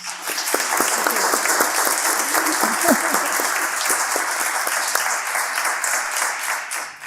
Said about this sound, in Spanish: un aplauso muy grande, Concha